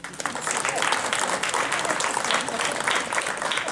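Audience applause at a career networking event, steady dense clapping from a crowd that carries evenly through the whole stretch at fairly close range.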